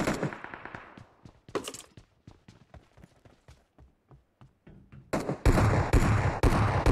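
Rapid gunfire from PUBG Mobile, with a fast series of sharp automatic bursts near the start, sparser distant shots in the middle, and louder, denser firing toward the end.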